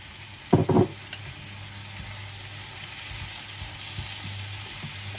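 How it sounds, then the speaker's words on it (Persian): A pan fries with dried dill added during preparation of baghali polo. A brief rustling clatter comes first, then a steady soft sizzle continues close by with no talk. "یه مقدار سرخش میکنم. تو همین مرحله یکم شیپید خشکم بهش اضافه میکنم."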